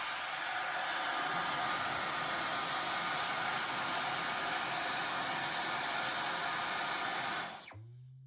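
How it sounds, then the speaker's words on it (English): A Dyson V11 Torque Drive cordless vacuum cleaner runs with a loud, steady, high-pitched suction whoosh close by, then switches off abruptly and winds down near the end. "I love the suction sound it makes when you turn it on and then it switches off."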